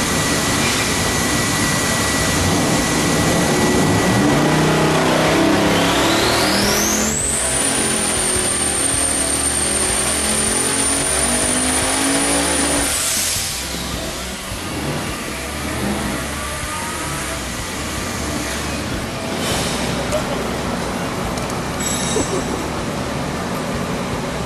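A 1900hp twin-turbo LSX street engine with a hydraulic roller cam revs up hard and holds a loud full-throttle pull with rising turbo whine, then drops back to a rough, rumbling idle, all very close.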